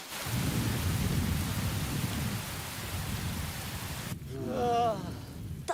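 A thunderstorm with rain in a Beyblade cartoon, with a broad, rumbling roar of thunder over a steady rain hiss, and a voice speaking briefly near the end beneath the storm.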